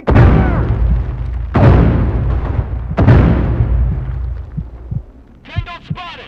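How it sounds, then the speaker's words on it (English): Three heavy grenade blasts in the military shooter Caliber, deep booming hits spaced about a second and a half apart, each trailing off in a long low rumble, followed by a short burst of voice near the end. "Grenade, take cover!"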